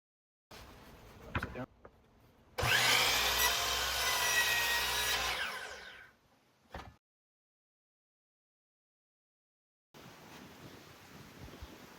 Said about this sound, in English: Be sure to hold the crown molding square against the saw as if it were to be installed to ensure you have an even cut.